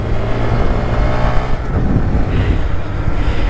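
A Honda Grom motorcycle on a ride home from the dealership, its engine drone loud and steady with rushing wind, heard close from the rider's position with no talking.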